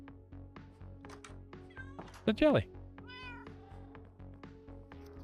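Cats meowing inside a cat cafe in a video game, a few distinct meows rising over steady game music, with a person talking throughout.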